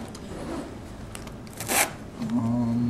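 Tape pulled and pressed on by hand during a tornado-safety demonstration, quiet rubbing and scraping with a short ripping burst near the middle and a faint tonal hum toward the end, no voices.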